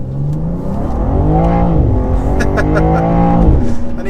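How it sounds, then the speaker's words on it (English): A BMW M2, rear-wheel drive and in comfort mode, accelerates hard onto a motorway, its engine rising loudly through the gears with audible shift dips, heard from inside the cabin without talk. "So just in comfort mode, plant my foot."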